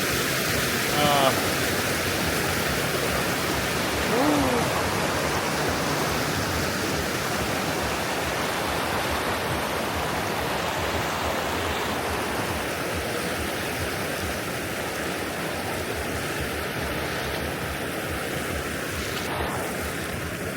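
Cold mountain stream water flows steadily in a broad, continuous rush, loud and close throughout, with a few brief voice fragments early on.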